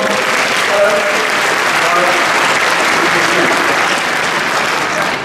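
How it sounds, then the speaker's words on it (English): An audience at an innovation talk in Toronto bursts into loud, sustained applause, dense clapping filling the room for several seconds. "Give this young man a round of applause"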